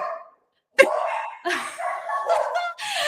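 Pet dogs bark excitedly indoors, a run of loud, close barks and yips in quick bursts with short gaps between them.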